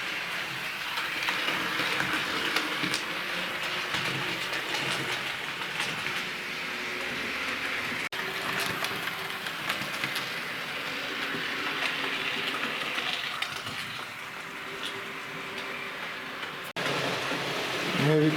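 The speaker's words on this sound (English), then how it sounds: "There goes the Class 40, and here comes Sir Walter." A model train set with a Class 40 diesel locomotive and the A1 Sir Walter Scott runs along the track, giving a steady, close rolling rumble and faint clicking for the whole stretch with no talking.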